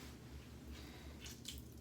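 Wet, squishy squeezing of a soaked boar-hair shaving brush as water is pressed out, soft and close with faint drips, quiet and brief with no talking.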